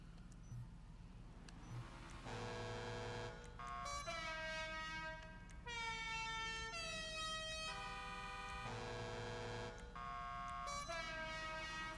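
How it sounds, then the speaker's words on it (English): A loud truck air horn in GTA Online blasts repeatedly, several long honks one after another with shifting pitch and no talking. "let's go with the standard air horn"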